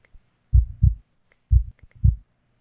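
A heartbeat sound effect in an audiobook, with two close, deep lub-dub pairs of thumps about a second apart standing alone in silence.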